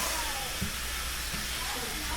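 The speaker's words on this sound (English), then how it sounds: "I turned the steam on" A steamer used for a neck reset on a 1965 Martin 000-18 acoustic guitar gives off a steady, continuous hiss at close range, unbroken for the whole moment.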